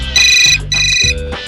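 A telephone rings close by in two bright, electronic bursts.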